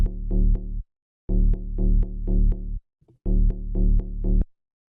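A synth bass line pairs an FM-made pluck with a sine sub bass. Loud, punchy repeated notes fall in rhythmic phrases, separated by short gaps of silence, and a brief blip sits in the middle.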